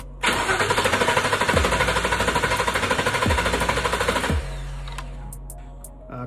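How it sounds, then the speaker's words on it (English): Ford F-150 5.0 engine cranking during a compression test, a loud fast rhythmic starter whir with regular pulses for about four seconds, then cutting off to a low hum and a few clicks. "I'm gonna do a cranking compression test and a running compression test in a second."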